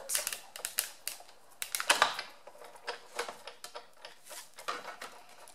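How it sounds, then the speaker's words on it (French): A Big Shot die-cutting machine embosses paper, giving a run of close, irregular clicks and ratcheting cranks that go on for several seconds at a fairly quiet level, with no voices. "On passe le tout dans la Big Shot."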